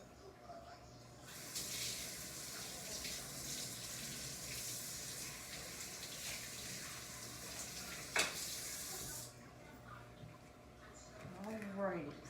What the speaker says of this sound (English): let me rinse this off, put it back in the lid so we can add the cream